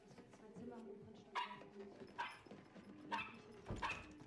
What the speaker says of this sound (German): Ja, und das ist unser Hund